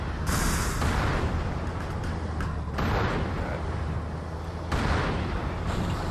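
Scorpion tank cannon fire and explosions in Halo 2, a loud dense rumble of blasts with several sharp booming onsets over a continuous roar.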